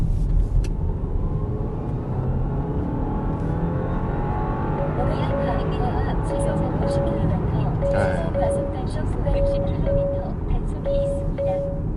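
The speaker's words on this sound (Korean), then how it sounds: "잠깐 오르막길을 이용해서 가속을 해보자면" An Audi A6 45 TFSI quattro pulls uphill under acceleration, its engine and road noise droning steadily and fairly loud throughout while someone talks over it.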